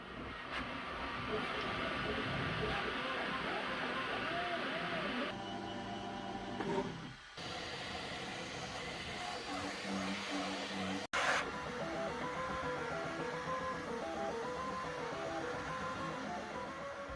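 A Bambu Lab P1P 3D printer runs at speed, with steady motor whirring and fast, rhythmic stepper tones, briefly changing pitch midway before resuming.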